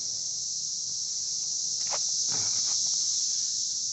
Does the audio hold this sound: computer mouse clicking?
no